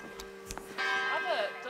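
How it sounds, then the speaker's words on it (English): A church bell in an Alpine ski village tolls a few times at a distance, faint and brief, while people talk over it. "Hear that bell? It's time for pizza dinner."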